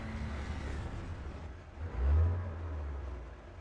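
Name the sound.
MRAP armored vehicle engine running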